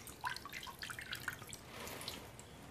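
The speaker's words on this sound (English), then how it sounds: "I'm going to pull the nettles out of the water, leaving any dirt behind." Stinging nettles lifted out of a bowl of cold water, drips and light trickles falling back in short irregular patters up close, with no voices.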